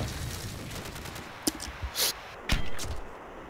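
Gunfire in the video game Call of Duty Frontlines: a few sharp, scattered shots and bursts over a noisy background, mid-distance and moderately loud.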